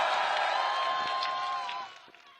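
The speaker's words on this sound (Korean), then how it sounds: "다시 한번 뜨거운 박수로 맞아주시기 바랍니다" Crowd applause and cheering at a Korean presidential campaign rally in Daegu, a dense steady roar of clapping and voices that fades near the end.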